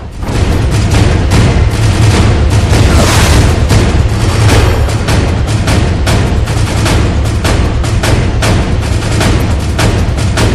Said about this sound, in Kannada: ಗ್ರೆನೇಡ್ ಸ್ಫೋಟವಾಗಿದೆ